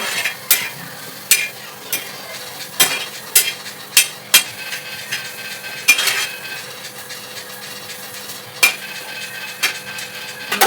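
Chopped onions browning for a green chicken masala sizzle steadily in a pan while a spatula stirs them, with sharp metallic scrapes and clinks every second or so over the continuous frying hiss; no one talks.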